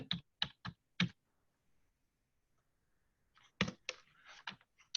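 Typing on a computer keyboard: a few distinct close keystrokes, a pause of near silence, then a quicker burst of clicks, faint overall.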